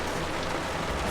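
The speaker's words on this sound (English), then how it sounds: "So it is raining super hard now." Heavy downpour in Panama City, Florida: a dense, loud, continuous roar of rain hammering a surface, unbroken for the whole moment.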